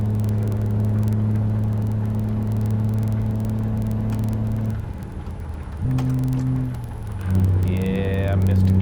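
A 2024 Peterbilt 389 tri-axle truck hauling a bulldozer rumbles loudly with a steady diesel drone, then the engine note drops and shifts abruptly as a gear is missed before revving back up, with a voice talking over it.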